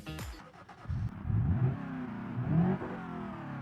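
A Škoda-style estate car with a 1.3-liter 65-horsepower engine and five-speed manual in BeamNG.drive starts and revs, the engine note rising and falling in two strong surges, loud and alone.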